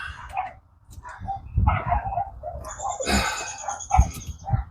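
Several dogs bark in the background outdoors on a residential street, with irregular, fairly distant yaps and barks that come in clusters and sometimes overlap.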